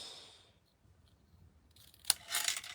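Near silence gives way to a sharp snip and a short, rasping cut through paper close by near the end, during card making.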